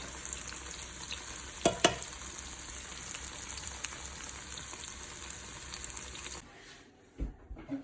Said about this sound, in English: I'm quickly frying some plantain to go with it